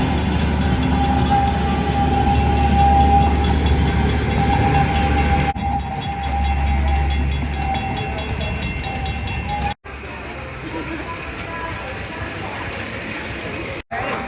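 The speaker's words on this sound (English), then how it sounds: "Gotta yield for the train." An amusement park train goes by at Valleyfair with a loud, sustained rumble and clatter of wheels on the rails. A tonal horn or whistle line runs through the sound, which has brief cuts and speech over it.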